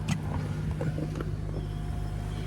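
A 2003 Honda Accord 2.4 four-cylinder idles smoothly with a new belt tensioner fitted, a low steady engine hum heard close up with no squeal.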